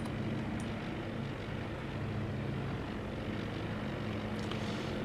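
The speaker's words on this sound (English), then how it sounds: "So these are the bombers now that are all launching" Bombers launching from an aircraft carrier deck in the Pacific War carrier battle simulator Task Force Admiral, a steady, unbroken propeller-engine roar with no talk.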